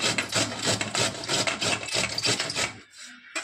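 Bitter gourd (karela) being finely grated on a hand grater, a steady run of close, rapid rasping scrapes that stops abruptly near the end.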